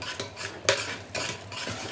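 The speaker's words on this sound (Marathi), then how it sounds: "ह्याला असंच मिक्स करायचे" A spoon stirs gram flour into a colocasia leaf curry in a pot, giving a few close scraping and clinking strokes with no speech.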